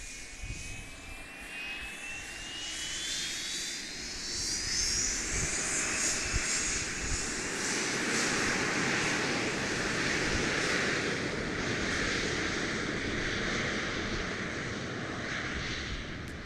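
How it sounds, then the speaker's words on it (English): A Gulfstream G280 business jet takes off from a runway, its engine roar building steadily and holding loud and broad throughout, with a rising whine sweeping upward early on and no talk. "Oh, right onto the runway. A turn and burn for this G280."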